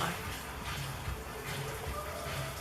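Water runs continuously through a nearby drain pipe, a steady broadband rush that holds at even loudness, with some voice faintly mixed in.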